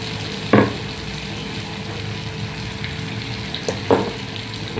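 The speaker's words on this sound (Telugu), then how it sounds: "ఫ్రై చేస్తున్నాను పూర్ణం వేసుకొని" Boorelu, sweet dumplings stuffed with purnam filling, frying in hot oil with a steady low sizzle, broken by a few brief louder bursts and clinks.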